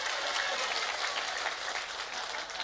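Steady, even audience applause from a crowd at a humorous religious talk for the Nisfu Sya'ban night, continuous and moderately loud throughout, with no voices over it.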